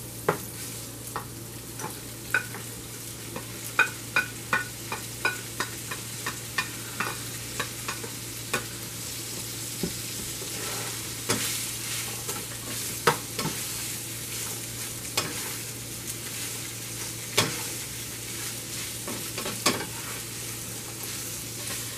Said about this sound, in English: I'm going to add in my onion that has been chopped.